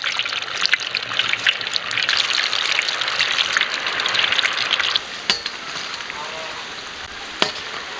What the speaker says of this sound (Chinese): 油温6成热，下入豆腐丸子炸。